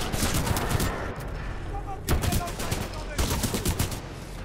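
Rapid automatic gunfire from a Flatline in Titanfall 2 comes in several close, loud bursts amid dense combat noise, with a voice briefly audible over the shooting.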